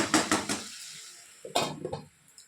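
A metal lid goes onto a cooking pot in a home kitchen: a few sharp clanks and scrapes, a pause, then another cluster of clattering metal knocks, close and fairly quiet.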